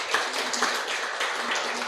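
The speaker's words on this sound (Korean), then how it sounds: "큰 박수 부탁드리겠습니다" A lecture audience at a business seminar claps together as the talk ends, a steady, dense patter of many hands that stays fairly soft and even throughout, with no voices over it.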